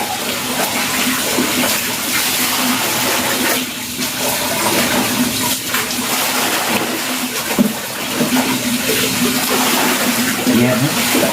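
Water splashes and pours steadily while laundry is washed by hand and someone bathes outdoors in hot weather, a continuous close wash of sloshing and running water with brief louder splats throughout.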